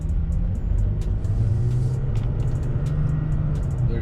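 A 2017 Toyota Tacoma pickup drives at low speed with a steady, deep engine rumble heard from inside the cab. Faint ticking clicks repeat over the drone, and no one speaks.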